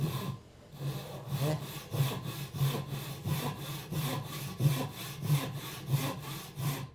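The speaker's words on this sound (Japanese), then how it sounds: "しっかり、ノコギリの刃をですね全部使って" A Japanese hand saw cuts through wood in long, regular strokes using the full blade length, about two per second, each a rasping sweep, close and steady.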